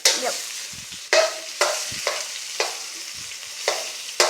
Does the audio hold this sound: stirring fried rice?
yes